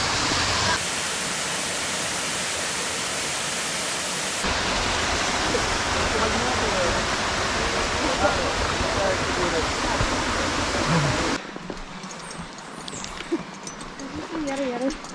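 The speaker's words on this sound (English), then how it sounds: "More cascades." Water cascades steadily at the Charco Prieto waterfall, a constant rushing roar that stays loud for most of the stretch before dropping off abruptly near the end, leaving fainter background and occasional voices.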